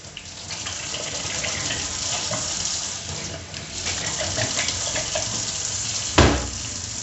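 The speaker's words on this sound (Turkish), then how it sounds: "Şimdi tekrarda sıcak su kullanarak" Hot tap water runs steadily into a plastic fermentation bucket during rinsing, a loud continuous splashing gush with a sharp knock near the end.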